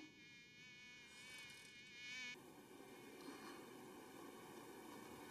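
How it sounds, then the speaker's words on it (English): Mosquito buzzing in a horror anime episode, a steady high whining drone with harmonic overtones that wavers in pitch, loud and continuous throughout with no talk over it. "Mosquito!"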